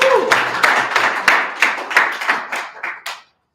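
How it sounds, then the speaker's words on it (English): A small audience at a blockchain education event claps to welcome a speaker, with distinct, close, rhythmic claps that soon taper off and stop. "Let's give him a round of applause"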